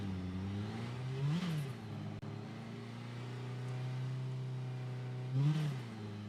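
A car engine in the driving game Drive Beyond Horizons hums steadily, rising into two distinct revving surges, one early and one near the end, as the car pulls away, with no speech.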